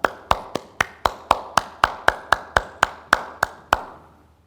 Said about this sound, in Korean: 우리 힘차게 박수하면서 그리고 말씀을 듣도록 하겠습니다.